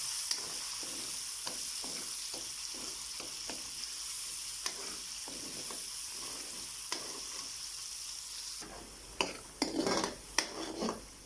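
Garlic and onion paste sizzles steadily in a kadhai (wok) while a spoon stirs it with regular scraping strokes. Louder metal clatter comes near the end, and no one speaks.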